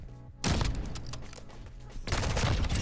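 Dense bursts of gunfire from a video game fill the clip, loud and close. A rapid fusillade starts after a brief quiet moment, then a second heavier volley follows near the end.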